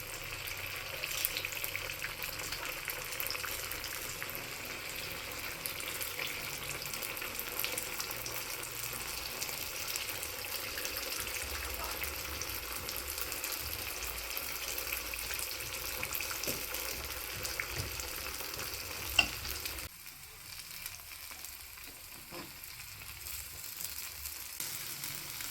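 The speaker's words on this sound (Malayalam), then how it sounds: "എണ്ണ ചൂടായിട്ടോ, അപ്പോൾ നമ്മളിത് ബാറ്റർ അതിലോട്ട് ഒഴിച്ചു." Unniyappam batter fries in hot oil with a steady, faint sizzle and crackle that continues for a long stretch, dipping slightly quieter near the end, with no talk.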